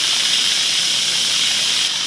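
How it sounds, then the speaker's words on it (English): An Instant Pot pressure cooker vents steam in a kitchen while a pot roast cooks, giving a loud, steady, close hiss that continues without a break. "we're going to release the remainder of the steam"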